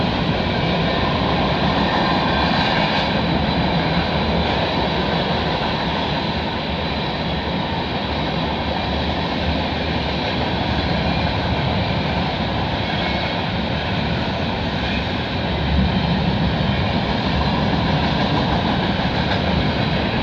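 A CN freight train passes in Milton, Ontario, with a loud, sustained rumble and a steady rolling roar of wagons that holds for the whole stretch, with no voices.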